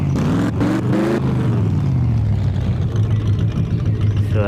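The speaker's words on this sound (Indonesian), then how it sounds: "Suaranya motor Harley gitu ya" A Harley motorcycle engine rumbles with a deep, heavy, steady low tone, revving briefly at the start before settling into a continuous loud drone.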